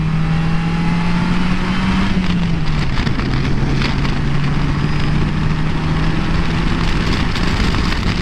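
A 2017 Polaris Slingshot SLR three-wheeler drives through a turn and speeds back up, its engine drone steady and close beneath heavy wind rush, the pitch dipping briefly before it holds on.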